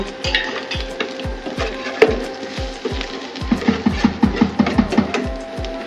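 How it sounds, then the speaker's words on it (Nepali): Masala spices fry in a pan while a utensil stirs and scrapes, giving a steady series of sharp knocks and clatters over a soft sizzle, with a faster run of scrapes near the end. "अहिलेको मसला फ्राई गर्न गइरहेको छु"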